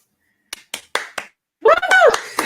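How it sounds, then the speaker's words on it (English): Four sharp, separate hand claps ring out close to the microphone in quick succession during an online artists' round table, followed by someone speaking. "I'm gonna clap."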